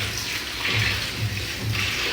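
Rice being rinsed in a pot of water, with soft sloshing and swishing in repeated rhythmic pulses, close and fairly quiet with no talk.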